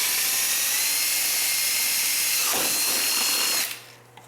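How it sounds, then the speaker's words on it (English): A power drill bores steadily through a part of a Kawasaki KLT 200C three-wheeler, a continuous high whine that runs nearly four seconds, briefly bogging partway through, then cuts off abruptly. "I'm going to get after drilling, you know, making that hole exactly how I need it from this side"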